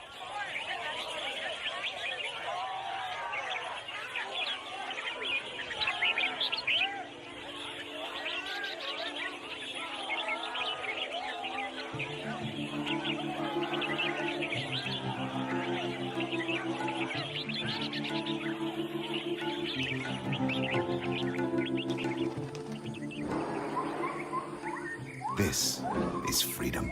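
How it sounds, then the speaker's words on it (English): Exotic caged birds, captured in the rainforest, sing during a bird singing competition at a Thai marketplace, a dense chorus of chirps and trills over a crowd's steady murmur and voices, with sustained tonal notes building in the latter half. "people have gathered to sell exotic birds, illegally captured in the rainforest, sold for the highest bid, and here participating in a bird singing competition"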